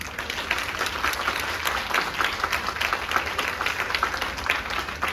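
An audience at a banquet hall event applauds with steady, dense clapping that holds for several seconds, moderately loud and continuous.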